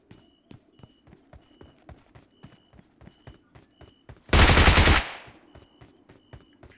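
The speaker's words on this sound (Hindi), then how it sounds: "मेरे को टावर पास से फायरिंग साउंड आ रहे होते हैं गाइस" Gunfire in a battle royale video game near a tower: a loud burst of rapid automatic fire about half a second long over a steady pattern of running footsteps.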